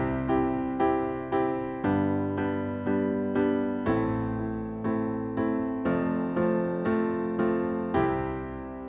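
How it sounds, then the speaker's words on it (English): Piano plays the 1-5-6-4 chord progression, firm block chords struck one after another in an even, steady rhythm, each ringing briefly before the next, loud and close with no voice. "Another one you'll recognize everywhere is 1, 5, 6, 4, and that sounds like this."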